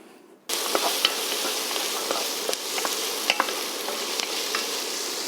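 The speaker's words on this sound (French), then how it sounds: "On attaque tout de suite par faire revenir nos oignons et nos lardons." Onions and bacon lardons fry in a pan with olive oil, salt and pepper, giving a steady, close, dense sizzle that begins abruptly and holds throughout, with faint stirring clicks and no talking.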